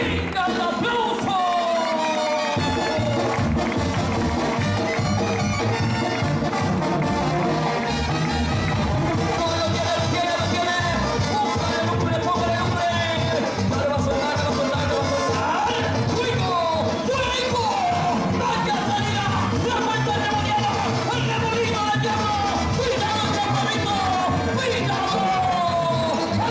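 A dense crowd at a regional bull-roping rodeo tournament roars continuously with yells, whoops and cheering, while voices shout over the steady din throughout.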